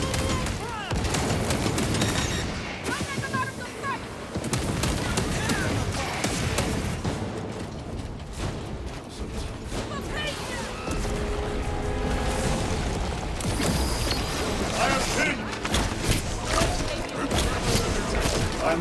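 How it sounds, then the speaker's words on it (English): Small-arms gunfire in the video game Warhammer 40,000: Space Marine 2, a loud, dense and nearly continuous fusillade of rapid shots and bursts mixed with booming impacts. "Small arms fire. It sounds close."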